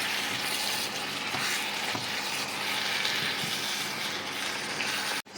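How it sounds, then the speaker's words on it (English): Meat with carrot and paprika simmering in a pan for fusilli pasta, a loud, continuous bubbling sizzle with a few soft utensil knocks, no voices. "pour our carrot and paprika all over and allow everything to simmer together"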